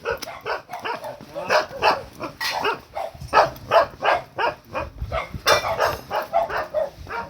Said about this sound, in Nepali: यहाँ कुकुर पनि भुक्दो रहेछ